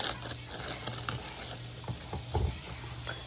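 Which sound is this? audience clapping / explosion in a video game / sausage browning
sausage browning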